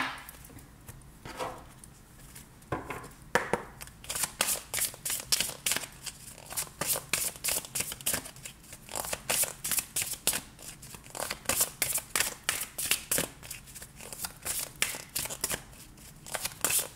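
Tarot cards are shuffled by hand for a reading, producing rapid bursts of riffling, flicking and slapping that come in uneven clusters, close and fairly soft, with brief quiet gaps and no talking.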